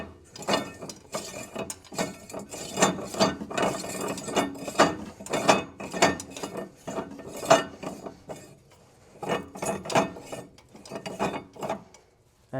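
Quick bursts of metallic ratcheting and clinking come in irregular clusters as the coilover ride height on a Dodge Neon is adjusted, close and fairly quiet, with brief pauses between runs and no talk.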